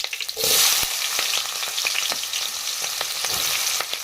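Onions fry in hot oil with mustard seeds and cumin for North Karnataka girmit, a loud, close, continuous sizzle broken by scattered crackles and spoon-stirring clicks.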